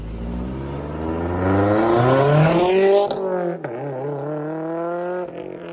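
A Subaru STI with an AWE Touring exhaust revs up loudly with a raspy, high-pitched tone, climbs to a peak and then settles back toward idle, heard close and with no talking.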